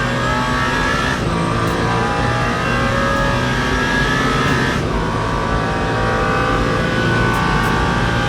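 Race car engines roar loudly and continuously down the Mulsanne Straight at Le Mans in the Le Mans Ultimate video game, the pitch climbing through gear changes with brief dips between shifts.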